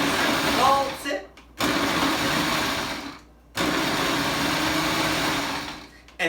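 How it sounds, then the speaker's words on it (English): Food processor on its low setting pulsing chicken salad, two loud whirring bursts of a few seconds each separated by a brief stop, close up. "So I have it on the low setting, and we're just going to pulse it."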